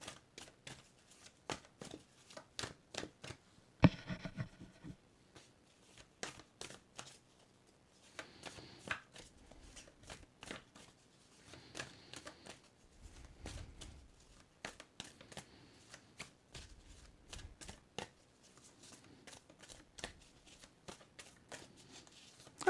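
Tarot cards are shuffled by hand in a quiet room with rapid riffling bursts and soft flicks, pausing and resuming over a long stretch, close and fairly soft.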